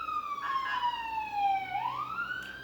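A wailing siren horn effect sweeps down and then rises again in a long continuous tone, loud and alone, with a faint low hum underneath.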